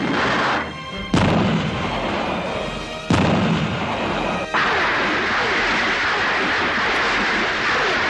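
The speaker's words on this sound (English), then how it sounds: "The thunderous response of gunfire in reply to his gunshot echoes across the" Gunfire in a North Korean documentary, with loud sharp reports at intervals, each followed by a long rolling echo across open country and a sustained rumbling tail.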